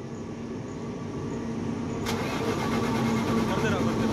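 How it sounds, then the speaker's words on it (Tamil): A Tata Prima 3525 BS6 diesel truck engine cranks and catches midway, then settles into a steady, loud mid-pitched idle rumble close by. "இப்போ வண்டி ஸ்டார்ட் பண்ண போகிறார் டிரைவரு"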